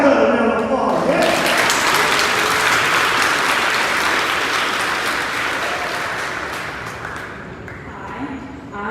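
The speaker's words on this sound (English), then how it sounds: "Let's give Miss Calica a round of applause." Loud, close applause for a presenter at a middle school virtual awards event, a dense burst of clapping that swells and then slowly fades over several seconds, with a brief voice at the start.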